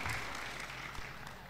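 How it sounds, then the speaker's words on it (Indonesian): A crowd at a creative-economy gathering in Probolinggo gives brief, fairly faint applause, a soft continuous patter fading slightly over a moment. "Tepuk tangan untuk kita semua."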